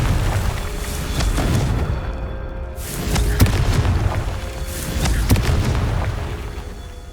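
Deep booming blasts from the Confringo spell in Hogwarts Legacy, several heavy explosions rolling one after another with rumbling tails.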